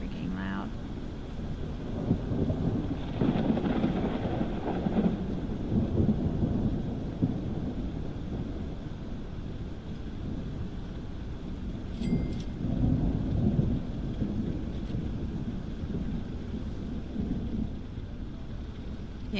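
A loud thunderstorm with heavy rain, a constant dense roar of rainfall broken by deep rolling rumbles of thunder, heard alone without talk.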